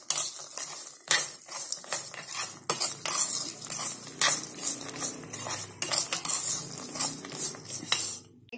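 Spice mix stirred into hot, freshly fried dhani mamra chevdo with a metal spoon, giving repeated close scraping and clinking strokes against the pan or bowl along with a light rustle of puffed grains, with no talking.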